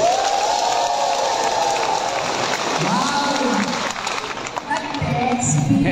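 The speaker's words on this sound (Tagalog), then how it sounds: "malakas na palakpakan sigawan para kay Pangulong Bongbong Marcos" Dense applause and cheering from a large crowd for President Bongbong Marcos, a steady roar of clapping and shouting that runs throughout, with a voice calling out over it.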